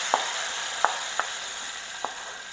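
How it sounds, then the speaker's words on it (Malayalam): Small shallots sizzling in hot oil in a clay pot while tempering a sardine fish curry, a steady close frying hiss with a few brief stirring clicks. "ഇനി ഇത് കാച്ചിടാൻ പോവാണ് ചെറുള്ളി"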